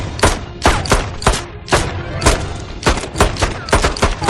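Rapid pistol gunfire in the Mortal Kombat 9 fighting game: a dozen loud, sharp shots in irregular bursts across the whole stretch, each a hard broadband crack with no voices over them.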